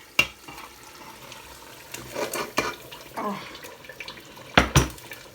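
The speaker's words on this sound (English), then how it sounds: "So guys, I poured in my parboiled tomatoes." Parboiled tomatoes are poured into a frying Nigerian tomato stew in a pot, giving wet splashes and sloshes, a few sharp clinks, and a soft sizzle between bursts, all close-up with no talking.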